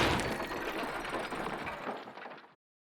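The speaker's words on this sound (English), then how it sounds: "So now we can screw this rod back onto the main bolt assembly." A recoil rod being screwed onto an airsoft gun bolt assembly gives a close, rapid, gritty ratcheting whir that runs steadily for about two and a half seconds, then stops abruptly into silence.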